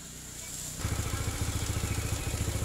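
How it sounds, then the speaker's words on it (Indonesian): A Suzuki motorcycle engine, from a Smash, Shogun SP or Satria FU family, fires up after a quiet start and settles into a close, steady idle with a rapid, regular pulsing beat. "Sekarang kita akan coba untuk hidupkan dulu di motornya."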